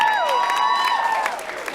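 An indoor crowd at a vlogger fair applauds and cheers the sponsors, with dense continuous clapping and whoops under a tonal whistle or squeal, loud and close throughout.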